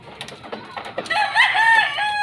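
A straight sweater bloodline gamefowl rooster on a gamefarm gives a few short clucks, then lets out a loud, close, drawn-out crow that carries to the end.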